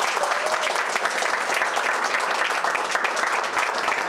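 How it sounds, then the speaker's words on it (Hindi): Loud, dense applause from the audience at a student facilitation ceremony of a film and creative arts institute, sustained evenly for the full few seconds with no talk. "आप लोगों के लिए हम सभी लोगों की तरफ से जोरदार तालियां।"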